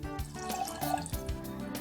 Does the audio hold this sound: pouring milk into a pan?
yes